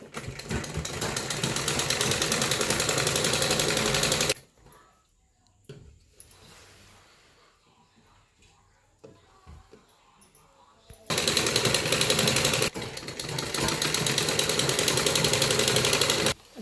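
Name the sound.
sewing machine stitching a net kurti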